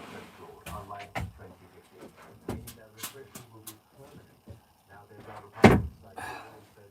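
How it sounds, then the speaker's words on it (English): A door slams shut aboard a narrowboat, one loud close thump standing out over quieter knocks, rustling and intermittent talk in a cramped interior. "I'm just gonna shut this door a minute"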